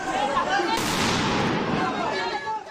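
Tear gas grenades fired by police through Paris streets during clashes with migrants, activists and journalists, heard as a dense, continuous wash of loud bangs and crowd noise, with a sharper burst near the start.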